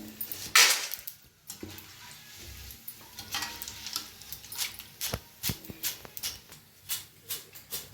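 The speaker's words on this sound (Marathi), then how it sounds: "तळलेला आहे बघा आवाज मस्त आवाज यायला लागलाय" Corn chivda frying in hot oil, a soft crackling sizzle with scattered stirring scrapes and clinks that come and go at close range, with no talk over it.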